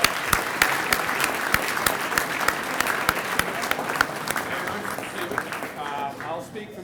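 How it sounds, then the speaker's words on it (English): An audience at the Fordham Athletics breakfast breaks into a big round of applause, close loud clapping with sharp individual hand claps standing out, fading slightly near the end as voices begin. "Let's give a big round of applause."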